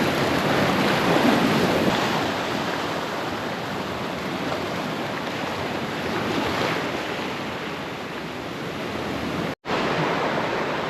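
Ocean waves break on a Costa Rica beach in the rainy season, a steady close wash of surf roar with wind buffeting the microphone, continuous for the whole stretch apart from one sharp momentary dropout near the end.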